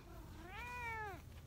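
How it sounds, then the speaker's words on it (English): A single cat meows once, a drawn-out rising-then-falling cry lasting about a second, fairly quiet and close, over faint background hum. "Why do you keep meowing?"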